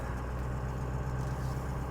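A 2004 Ford Excursion XLT 4WD with the 6.0L Powerstroke diesel on the move, giving a steady, quiet low drone with an even hum that never lets up, no voices over it.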